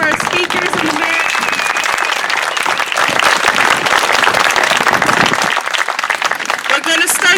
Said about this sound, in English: Let's give one more hand of applause for our speakers and the mayor.